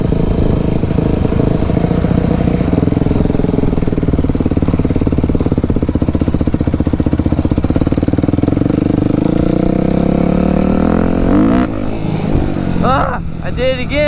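A dirt bike engine drones through backyard riding, a loud steady motor hum that rises and falls in pitch as the rider shifts and coasts, and near the end the revs drop and a voice talks briefly.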